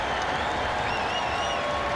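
A Portland basketball crowd of Blazers and Warriors fans keeps up a broad, sustained ovation after the final regular-season game of 2022-23, with clapping and crowd murmur at a constant loud level and a faint whistle-like tone drifting through.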